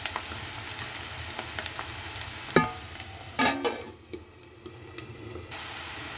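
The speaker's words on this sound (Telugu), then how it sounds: "ఇలా బాగా వేగాలి కాకరకాయ." Bitter gourd fries in a pan with a close, steady sizzle and crackle, broken by a few sharp scraping stirs before the frying quiets a little.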